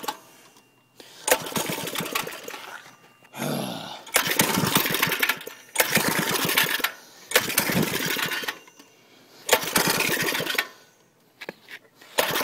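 A Klipper go-kart engine sputters and runs in several loud bursts, starting, revving and cutting out again with short quiet gaps between each run.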